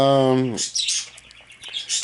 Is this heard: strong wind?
no